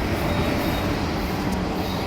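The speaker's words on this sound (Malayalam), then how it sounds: "ഈ ട്രെയിൻ നോർത്തിൽ നിന്ന് സൗത്തിലേക്ക് യാത്ര ചെയ്യുകയാണ്." A train rumbles steadily past nearby on Vellayani Studio Road, Nemom, Thiruvananthapuram, a dense continuous roar of wheels and carriages with no break.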